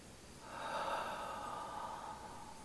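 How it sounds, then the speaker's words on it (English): A long, steady exhale, as in a guided breathing-out exercise during a children's worship session. It swells softly in the first second and then trails off evenly, with no talking. "and breathing out."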